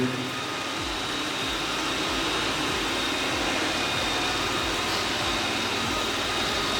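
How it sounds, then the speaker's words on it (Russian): A Roborock S8 MaxV Ultra robot vacuum cleaner hums steadily and close, with a soft repeating whir underneath that pulses roughly every half second. "сначала пылесос проезжает комнату вдоль плинтуса"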